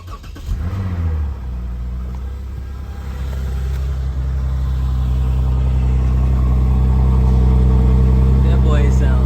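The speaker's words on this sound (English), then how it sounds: "we're gonna do a cold start." A Honda Civic engine cold start: a brief cranking burst gives way to a rising, steady idle that grows louder and settles into a deep, even rumble, heard close up with no talk.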